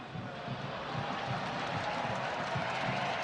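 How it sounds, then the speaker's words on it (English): Distant stadium crowd at a Los Angeles Galaxy versus New York Red Bulls soccer match gives a brief ripple of applause and murmuring, a broad low roar that stays faint and even throughout. "Gets a little applause."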